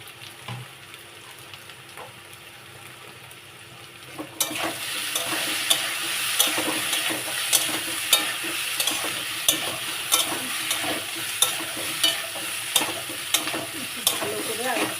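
Chilli, coriander and cumin fry in a pan, a quiet start breaking into a loud continuous sizzle with regular scraping stirs of the spatula sounding every second or so.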